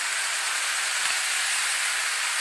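A Bachmann Donald model steam locomotive runs along its track with a steady, unbroken hissing rush that stays constant throughout, close by and alone.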